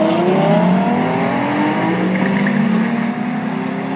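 A 2008 Trailblazer SS and a 2011 Mustang launch side by side in a drag race, engines roaring loud and steady as they accelerate away, with rising revs throughout.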